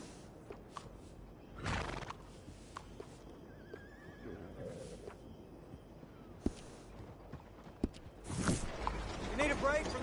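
Horse neighing in Red Dead Redemption 2, in a stable scene: several short whinnies rise out of a quiet background, mixed with faint hoof steps while people talk.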